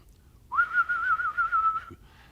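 A person warble-whistles a single sustained whistle with a rapid, rolling warble, held steadily for over a second before stopping.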